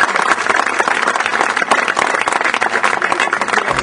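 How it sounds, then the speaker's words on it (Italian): A loud crowd claps in memory of a deceased councillor at a memorial football tournament, with dense continuous applause throughout the short stretch and no pause. "giusto il tempo di fare un applauso al nostro consigliere Cicchetti"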